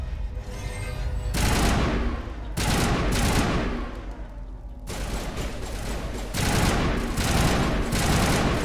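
Sustained bursts of gunfire while shooting husks in Mass Effect: dense, loud automatic fire in long stretches with short pauses between them.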